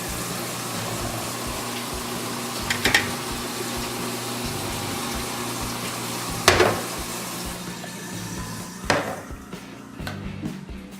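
Water running steadily from a kitchen sink sprayer in a house being inspected, a constant broadband hiss with a few brief clunks and bumps over it, close and alone.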